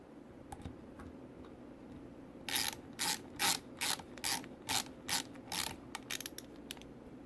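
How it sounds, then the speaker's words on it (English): Small screws being driven into Burlwood 1911 laser grips on a .45 Commander pistol, a run of about nine quick, sharp ratcheting clicks from a screwdriver, close and fairly loud, with a few lighter ticks before and after. "Get these screws installed."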